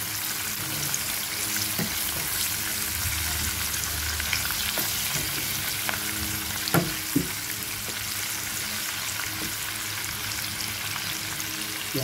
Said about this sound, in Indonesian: Okey, bekas minyak goreng ikan tadi tu kita letaklah halia, bawang holen dan cili kering ya.